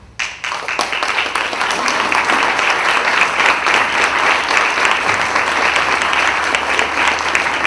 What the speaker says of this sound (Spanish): Vale el aplauso